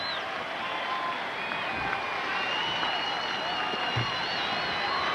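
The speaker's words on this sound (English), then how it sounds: "Look at this standing ovation for the Iowa Cubs" Baseball crowd of about nine thousand on its feet at a 1993 Triple-A championship game between the Iowa Cubs and Nashville Sounds, giving a steady standing ovation of applause and cheering that fills the whole stretch, with a broadcaster's voice faintly underneath.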